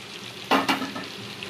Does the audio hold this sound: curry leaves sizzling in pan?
yes